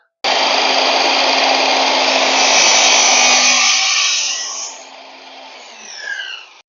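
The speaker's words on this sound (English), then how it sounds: "Our saw is going to follow that mitre there, and we should have a 187 cut, perfectly cut." A power saw cuts a mitre on a bead, starting abruptly with a loud, bright, high-pitched whine that holds steady for several seconds, then drops away and winds down as the blade slows.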